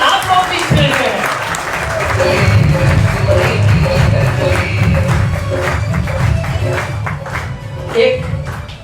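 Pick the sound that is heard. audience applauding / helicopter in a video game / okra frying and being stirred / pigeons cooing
audience applauding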